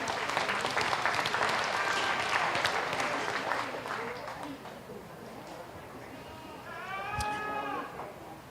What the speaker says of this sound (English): So if we can give a round of applause to them and their appreciated employers.